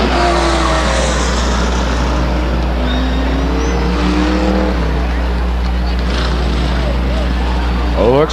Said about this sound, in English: They're wrecking race cars all over the place on the backstretch.